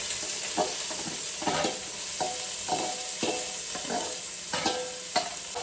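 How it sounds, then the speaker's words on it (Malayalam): Onions sizzle steadily in hot oil while frying for chicken biryani, with a spoon scraping and stirring the pan every second or so. "നമുക്ക് സവോള വറുത്ത് കോരണം."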